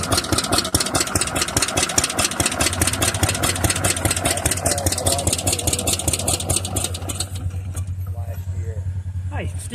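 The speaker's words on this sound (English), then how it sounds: "But it's a 1966 Arctic Cat with a rear engine." A 1966 Arctic Cat rear-engine vintage snowmobile idles nearby with a fast, even two-stroke putter and a low steady hum, loud at first and easing slightly toward the end.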